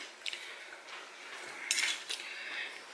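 A knife and fork scrape and clink against a plate while a steak is cut during dinner, giving a few close, light metallic taps and scrapes with no talking.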